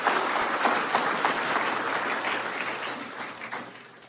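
A church congregation gives loud applause during a sermon, a thick continuous clatter of many hands that slowly fades toward the end, with no speech over it.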